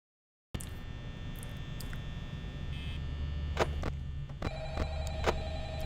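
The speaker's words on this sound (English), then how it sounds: "I don't want to hear the phone call" Telephone ringing in the Fear Freddburgs horror video game, a repeated electronic ring that starts abruptly after a moment of silence over a steady low hum, with quieter beeps mixed in.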